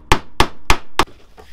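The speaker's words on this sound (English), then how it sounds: "Using your chisel, you're going to try and hammer it underneath next to" A hammer strikes a chisel into a join in a VW T5 van body, giving four sharp, loud metallic whacks at an even pace, then a fainter fifth tap.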